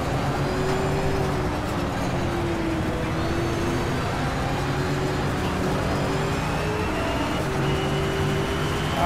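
A Mercedes SLR race car in Shift 2 Unleashed drones steadily at high engine load, its pitch shifting slowly as it pulls alongside other cars, loud and continuous throughout.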